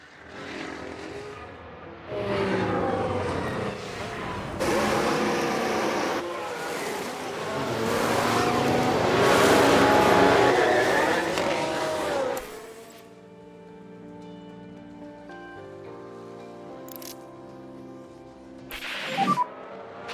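Mercedes Formula 1 car engine in the F1 Manager 2022 racing game, a loud sustained high-pitched roar rising and shifting for several seconds, then dropping into quieter tonal engine drones and a brief final burst.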